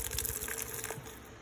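Budweiser beer poured from the can into a small Dutch oven for steaming snow crab legs, a steady close gushing, fizzing splash lasting about a second and a half before tapering off.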